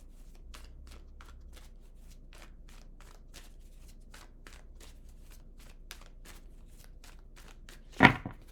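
Tarot cards being shuffled by hand: a quiet, steady run of crisp riffling snaps in an even rhythm, ending with one sharper, louder card slap near the close.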